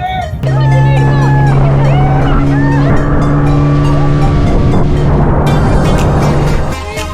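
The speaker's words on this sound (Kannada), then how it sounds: "ಇದು ನಮ್ಮ ಬೋಟ್ ನೋಡ್ರಿ" A cruise boat in Goa runs on the water, its engine giving a loud, steady droning hum with tonal whine throughout, while people chatter nearby.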